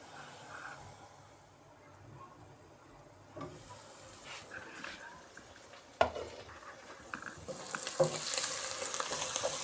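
Minced meat with onion frying in a pan, a low, faint sizzle that grows busier and louder toward the end, with occasional knocks of a spoon or lid and brief background voice.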